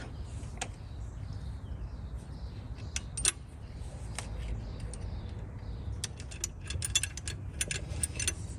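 A wrench tightens a bolt on a Toyota Corolla alternator, giving quiet, irregular bursts of sharp ratcheting clicks against a low background.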